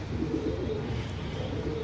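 Soft, low cooing of a Pakistani high-flyer pigeon close by, a steady murmuring coo running through the brief moment with no talking.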